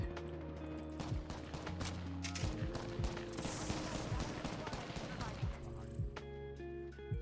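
Rapid gunfire bursts and shots during an Apex Legends match, dense and continuous under game sounds and background music, with a voice talking over it.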